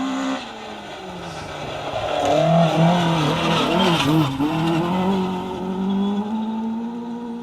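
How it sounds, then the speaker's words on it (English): A Nova rally car driving fast on a forest stage, its engine revving and rising and falling in pitch as it shifts gears, loud and fairly close with no talk. "Car 80, Dan Jones, Cyril Jones in the Nova."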